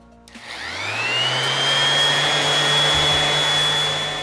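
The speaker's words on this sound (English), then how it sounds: "Next, I'm going to prep my wood with a sander, and you want to use a fine grit sandpaper for this so it ends up really smooth." An electric sander prepping a wood board with fine grit sandpaper starts up and runs as a steady, loud whirring drone with a high whine, close and alone, for several seconds.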